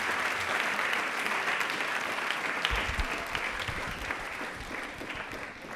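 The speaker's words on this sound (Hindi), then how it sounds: "तालियां प्लीज एक बार मैम के लिए जोरदार हो जाए।" A studio audience gives sustained, steady applause for a home science professor from the University of Rajasthan, Jaipur, at the start of a televised quiz programme, with faint low thumps midway.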